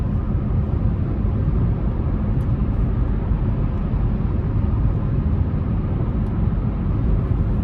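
Cabin of a 2025 Buick Encore GX Sport Touring cruising on the interstate: a constant, dense rumble of road and tyre noise with a steady low drone, no talking.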